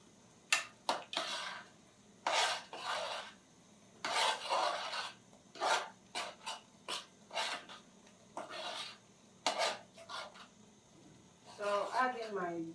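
Stew beans stirred in a pot with a spoon, a series of short scraping, rasping strokes in uneven rhythm, close and fairly quiet, with gaps between each pass.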